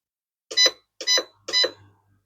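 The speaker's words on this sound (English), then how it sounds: "what you heard there was a bunch of beeping that you cannot get rid of" An RC car remote control chirps three short electronic beeps, each about a quarter second long and evenly spaced, clear and fairly close in an otherwise quiet room.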